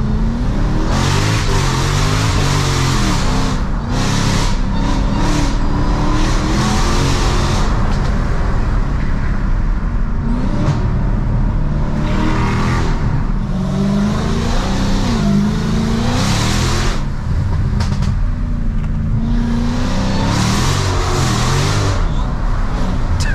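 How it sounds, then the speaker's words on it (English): A loud 914 bhp Dodge Hellcat engine revs and roars repeatedly, climbing and dropping in pitch with gear changes and sharp throttle blips, close and continuous. "this car is so loud"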